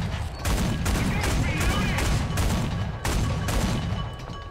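Gunfire in a War Thunder simulator tank battle involving a Ju-87 and a flak truck: dense, continuous shooting with repeated sharp bursts over a loud, steady battlefield roar.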